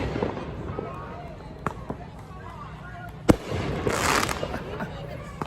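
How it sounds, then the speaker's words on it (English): Fireworks bang a few times at a distance in Seattle's CHAZ/CHOP protest zone, sharp isolated pops with a brief crackling burst, over a steady murmur of outdoor background noise and faint voices. "Oh, fireworks."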